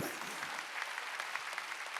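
A church congregation applauds during a Sunday worship service, a steady, moderately loud patter of many hands clapping together, briefly overlapping the tail of a preacher's voice at the start.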